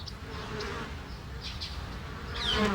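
A scout bee flies in a suburban backyard, its thin, steady buzz droning softly and growing slightly louder near the end, with no other sounds.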